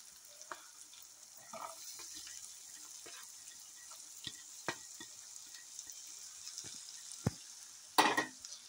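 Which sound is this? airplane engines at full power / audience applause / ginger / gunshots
ginger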